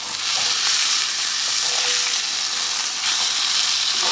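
A T-bone steak sizzles loudly and steadily in a hot cast iron pan, a dense, continuous frying hiss with no talk over it.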